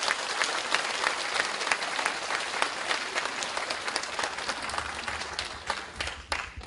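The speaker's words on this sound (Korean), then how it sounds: "학부모님들 큰 박수 부탁드립니다." Parents at a high school parents' general meeting in Gangneung give sustained, dense applause from a large indoor audience that tapers off near the end.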